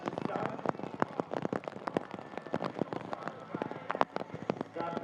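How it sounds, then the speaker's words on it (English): Heavy rain pours down at an outdoor fitness competition in Miami Beach, a dense, continuous patter of sharp drops striking surfaces at close range. "The rain has subsided a little bit, but it is still coming down very heavily here."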